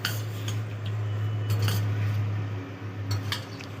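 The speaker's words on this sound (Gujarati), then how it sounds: "હવે આપણે એને સરસથી મિક્સ કરી લેશું." A spoon mixes kewra and lemon into a Punjabi pickle in a metal bowl, with repeated sharp clinks and scrapes against the vessel over a steady low hum, close and fairly loud, with no talking.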